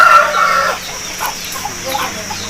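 A one-eyed aseel fighting rooster, a four-time winner with a white beak, clucks close and loud at the start, followed by softer scattered bird sounds.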